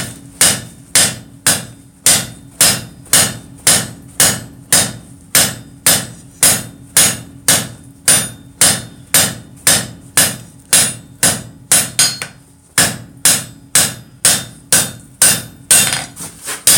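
A hammer strikes hot steel stock on an anvil during progressive forging of pick-up tongs, giving loud, evenly spaced metallic blows, roughly one per half second, with a brief pause partway through.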